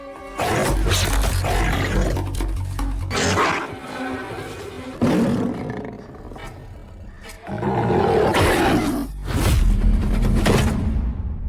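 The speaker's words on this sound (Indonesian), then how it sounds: "tiba-tiba saja singa yang dicari menyergap Paka sehingga dia tewas seketika" Film soundtrack of a lion attacking in a primitive-era wilderness: repeated loud, close roars and snarling growls in several bursts over about eleven seconds, mixed with whooshing action effects and no talk.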